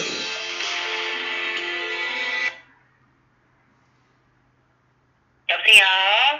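A telephone ringtone plays a steady, tonal ring for a couple of seconds in a quiet lecture room, goes silent for a few seconds, then sounds again in a brighter, warbling burst.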